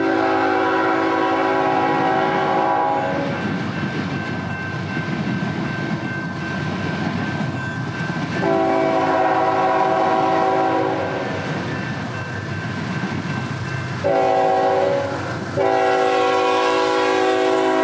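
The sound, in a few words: CN northbound manifest train led by two GE wide cab locomotives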